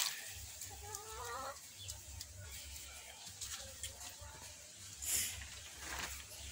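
Hens clucking softly at a poultry setup, with intermittent low clucks and a brief sharper squawk over a steady background hum while someone talks nearby.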